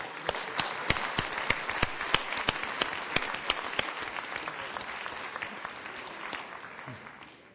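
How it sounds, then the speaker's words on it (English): An audience applauds 20-year service award recipients at a college chancellor's opening session, with steady, dense clapping and a few sharper individual claps standing out, fading slightly toward the end. "let's give our 20-year recipients a round of applause"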